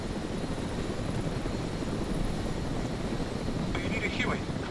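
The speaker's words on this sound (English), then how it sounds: "they're spawning a helicopter for me" Helicopter in the ARMA 3 military video game, a steady broadband rotor and engine roar that stays loud and continuous throughout, with faint voice chat in the background.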